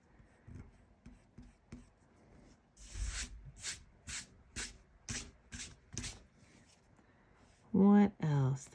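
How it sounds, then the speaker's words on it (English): An eraser rubs out pencil marks on paper in a quick burst of about ten brisk scrubbing strokes, close and crisp, after softer earlier rubbing, ending with a brief voiced sound. "I can erase that."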